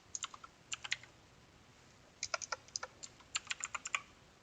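Light tapping on a computer keyboard, two short bursts of quick, quiet, close keystrokes separated by a pause, in an otherwise quiet room with no talking.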